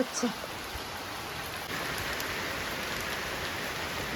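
Rain falls steadily outdoors while the sun shines, making an even, close hiss of drops that thickens slightly partway through, with a few brief bumps at the start and end.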